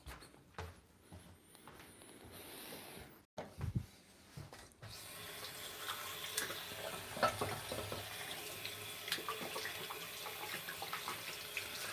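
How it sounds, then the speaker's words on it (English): Hands washed under a running water tap, a faint steady splashing stream with soft clunks and handling sounds, quiet and close, no talking. "me go quickly wash my hand."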